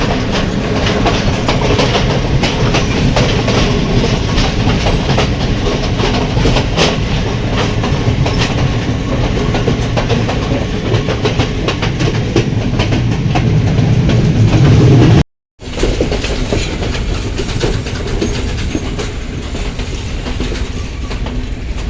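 The Badulla night mail train rumbles and clatters loudly along the rails on the Sri Lankan hill line between Polgahawela and Demodara, a continuous heavy roar with a brief sudden dropout partway through.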